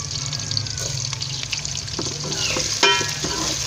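Whole garam masala with lightly browned onions sizzles steadily in a pan for a dhaba-style matar keema, the soft crackle joined by scattered clinks and stirring scrapes, with no voices.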